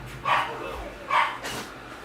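Dogs bark indoors on a rainy day, two sharp close barks about a second apart followed by a softer third yelp, loud against a quiet room.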